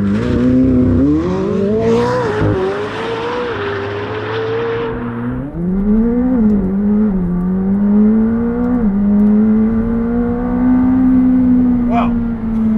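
A McLaren 765LT launches at full throttle, the engine roaring as it climbs steeply through several rising gear pulls, each upshift marked by a brief dip before the revs surge again, loud and close inside the cabin.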